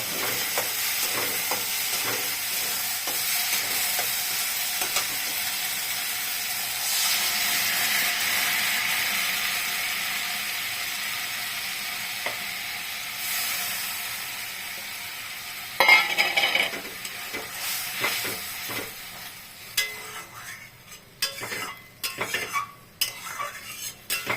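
Prawns with their hot soaking water go into fried spice paste for a shrimp curry, a long hiss of frying liquid that fades, then clinks and scrapes of a spoon against the pan toward the end.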